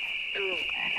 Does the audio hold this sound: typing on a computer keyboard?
no